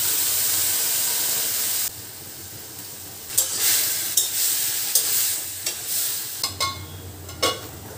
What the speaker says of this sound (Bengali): মাছের জন্য আমি বেগুনগুলোকে সাঁতলে নিলাম প্রথমে।